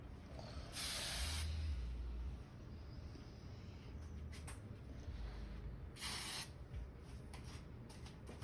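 Hairspray from an aerosol can is sprayed onto hair in two hissing bursts, a longer one near the start and a shorter one later, over a quiet background.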